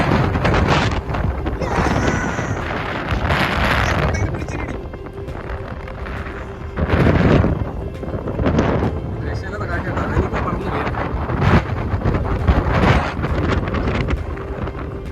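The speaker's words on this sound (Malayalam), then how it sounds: "ഒരു രക്ഷയില്ലാത്ത കാറ്റ് എന്ന് പറഞ്ഞാൽ ഒരു രക്ഷയില്ലാത്ത കാറ്റ്." Strong wind on a misty hilltop at Koonichimala buffets the microphone in loud, roaring gusts, surging and easing throughout, with a voice talking at times beneath the rumble.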